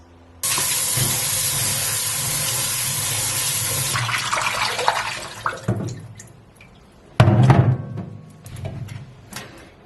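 Tap water runs steadily into a kitchen sink for cleaning mushrooms, a loud broadband rush that later breaks into splashes and drips as the mushrooms are handled under the stream.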